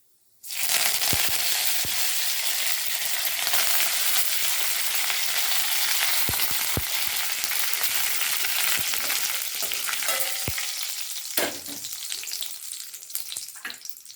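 Curry leaves hit hot oil in a pan on a low gas flame and burst into a loud, dense sizzle that holds steady for several seconds, broken by a few sharp pops and spatters.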